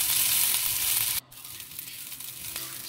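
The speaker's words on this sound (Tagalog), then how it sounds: "Halo-haloin lang natin ang ating rice." Leftover rice and mixed vegetables stirred in a hot pan for fried rice, a loud steady sizzle with scraping that drops to a quieter, crackling fry partway through.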